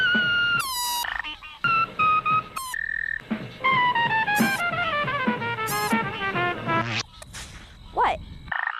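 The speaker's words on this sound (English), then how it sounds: "A frog does the same thing when it blows air out of its mouth and over its vocal cords to make some funky sounds" A frog croaks in a series of twangy, warbling calls with short breaks between bursts, close and fairly loud against a quiet background.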